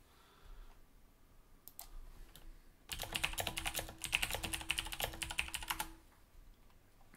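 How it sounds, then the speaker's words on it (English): Rapid clicking on a computer keyboard, a dense burst of keystrokes lasting about three seconds after a few scattered taps, close and clear in a quiet room. "I mean, I know I'm still typing."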